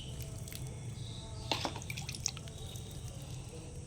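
Water is sprinkled onto potted palak plants in faint, scattered drips and patters over a low background hum.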